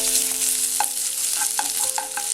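Ginger garlic paste frying in hot sunflower oil with bay leaf, cinnamon, mace, cardamom and cloves: a steady close sizzle with a faint hum underneath and soft scraping stirs at irregular moments.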